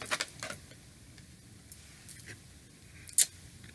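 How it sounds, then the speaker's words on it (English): Tarot cards being shuffled by hand, quiet papery flicks and soft snaps scattered across a few seconds, with one sharper riffle near the end, close and faint against a hushed room. "I shuffle the cards"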